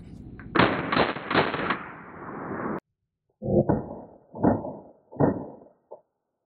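Three sharp reports from a UMP firing .45 ACP hollow point rounds at a Level IIIA full coverage armor vest, spaced about a second apart, each with a short ringing decay. A longer, noisier burst comes just before them.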